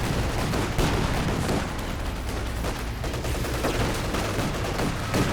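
Battle sounds from the real-time strategy game Company of Heroes 2: dense, continuous gunfire and bazooka blasts in a loud, unbroken barrage with overlapping bursts and no talking.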